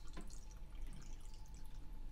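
Tap water runs from a kitchen faucet into a container, a steady trickling and splashing stream with drip-like detail, fairly quiet and continuous with no talking.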